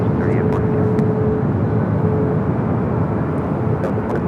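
Jets roar loudly and continuously at Los Angeles International Airport during takeoffs, a broad low rumble with a thin whine running through it, while a voice talks over it.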